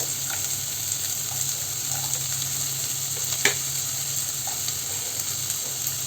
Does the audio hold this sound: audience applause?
no